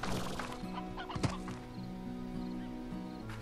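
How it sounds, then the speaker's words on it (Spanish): Chickens in the video game Slime Rancher cluck and chatter in a steady, busy stream, with a sharp clattering knock near the middle and low hoof-like thuds underneath. "aquí suenan gallinas"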